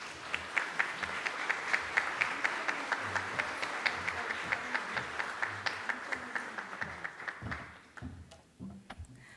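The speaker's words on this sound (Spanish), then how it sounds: "Un aplauso para ella, por favor." Audience applause at a legislative comptroller's keynote conference in the State of Mexico, steady clapping with distinct sharp claps standing out, fading toward the end.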